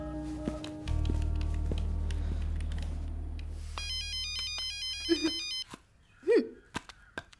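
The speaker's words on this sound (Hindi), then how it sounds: "ये क्या है लता, बार बार किसका कॉल आ रहा है?" A mobile phone ringtone plays a repeating electronic melody for a few seconds over a low background drone, with a couple of short tonal blips following.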